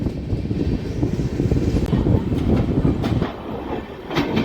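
A passenger train on the Bidar to Machilipatnam route rolls slowly along the rails, a steady close rumble with rhythmic clickety-clack of wheels over joints and a few sharp clanks, without voices.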